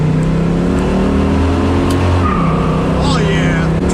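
A 1969 Camaro with a loud aftermarket exhaust accelerates hard, its engine roaring close and steady before a gear change, with people talking inside the car over the engine.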